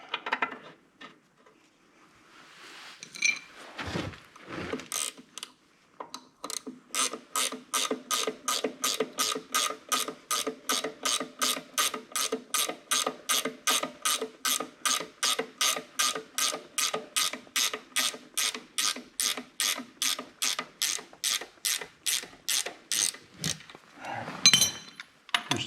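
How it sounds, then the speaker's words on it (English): A hand ratchet backing a bolt out of the timing cover on a 1928 Allis Chalmers 20-35 tractor engine, a long run of rapid, evenly spaced metallic clicks after a few scattered clanks, close and clear. "Just taking this bottom bolt out."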